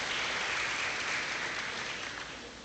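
An audience at an academic law lecture gives a round of applause, a steady, even clapping from a seated crowd in a hall, fairly quiet and fading slightly toward the end.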